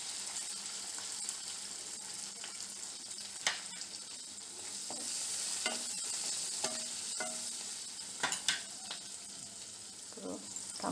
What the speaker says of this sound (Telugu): ఇప్పుడు గ్రీన్ చిల్లీస్, వేసి కలుపుకుందామండి.